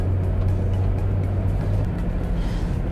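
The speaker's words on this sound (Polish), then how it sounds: "podczas jazdy po autostradzie jest tutaj już naprawdę głośno" Steady low road and engine drone inside the cabin of a first-generation Mazda 6 at 90 km/h on a motorway, loud and constant throughout without talking.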